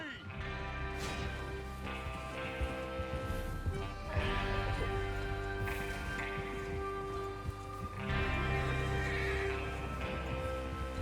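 Horses in Red Dead Redemption 2 whinnying and snorting over steady hoof clip-clop and rustling, a dense, continuous game soundscape with several neighs rising above it and voices talking underneath.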